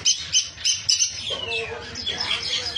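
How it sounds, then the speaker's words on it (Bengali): An adult sun conure at a bird sale gives sharp, high chirps and short squawks in quick bursts, with other birds and a murmuring voice faintly in the background. "এখানে আছে সানকনুর, ফুল অ্যাডাল্ট সানকনুর।"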